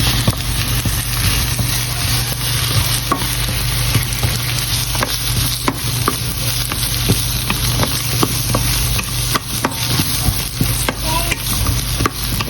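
Large slices of onion sizzle steadily in a pan while a utensil stirs them, giving a broadband frying hiss with faint scraping ticks and no one speaking.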